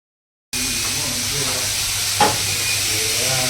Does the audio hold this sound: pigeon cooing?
no